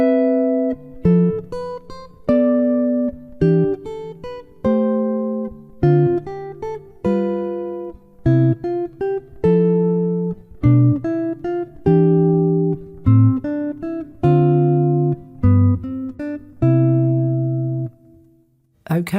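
Jazz guitar runs through a diatonic chord progression, each chord linked by two scale notes, in the Barry Harris method: a steady sequence of plucked chords and single notes, clear and close, with no talking.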